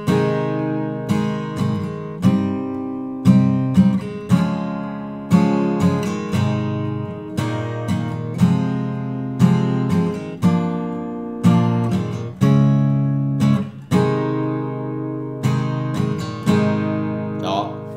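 An acoustic guitar strums a syncopated section, with sharp accented chord hits in an offbeat, pushed rhythm, played close and alone without talk.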